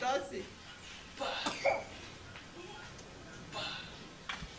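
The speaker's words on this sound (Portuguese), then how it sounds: "Ai, que tosse." A person coughs a few times at a family birthday gathering at a country farm, short harsh bursts amid room noise and background voices.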